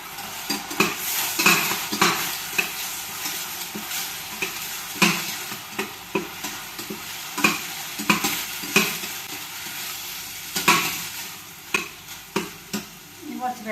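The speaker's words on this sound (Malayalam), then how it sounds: "നമുക്ക് കഴുകി കുതിർക്കാൻ വച്ചിരുന്ന ചാമരി ഇടാം" Soaked barnyard millet is stirred in a hot pan with onion and ginger, with rhythmic scraping strokes of a spoon over a continuous frying sizzle, close by and without talk.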